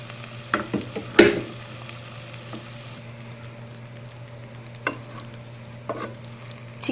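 Pressure-cooked chicken stirred into a capsicum masala in a pan: a few sharp spatula scrapes and clinks spaced out over a faint, low frying sizzle and a steady background hum, with no voices.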